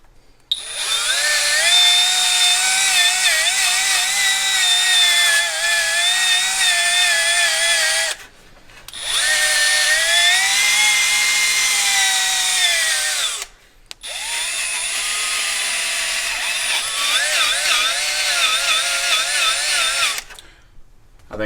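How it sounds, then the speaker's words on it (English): A small whiz wheel abrasive disc cleaning the mating surfaces of a Jeep ZJ engine during a rebuild, three long high-pitched whining passes separated by short pauses, loud and close. "I'm just going to take the little whiz wheel here and just clean up the mating surfaces"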